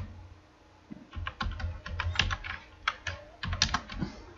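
Rapid bursts of keystrokes on a computer keyboard during coding work, irregular clusters of close, crisp clicks that pause briefly and then resume, with no talking.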